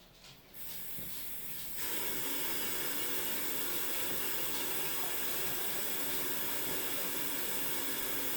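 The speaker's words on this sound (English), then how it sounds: "We're going to fill this with water and see where it leaks" Water pours steadily into a small handmade clay olla, a loud continuous hissing rush that begins faintly and swells after a couple of seconds into a sustained spray, with no talking.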